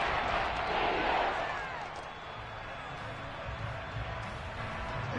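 A football stadium crowd roars in a broad, continuous wash of noise, loudest at the start and then settling into a steady din, with a commentator talking over it.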